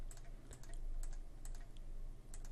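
Quick, light keystrokes on a computer keyboard in an irregular patter, close and fairly faint, above a steady low hum.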